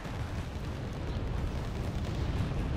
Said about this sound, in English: Got some artillery from Redfor.